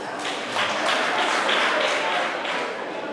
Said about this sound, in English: And let us also clap for government.